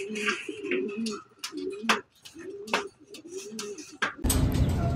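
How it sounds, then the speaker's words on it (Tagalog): Pigeons coo in repeated low rounded phrases at close range in a La Paz, Tarlac loft, with brief pauses between calls and a burst of broadband noise at the end. "Ay, mga ibon."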